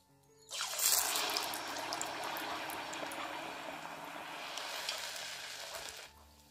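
Sweet cucumber flatbread dough hits hot oil and bursts into a bright, crackling sizzle that holds steady for several seconds before cutting off, with no voices.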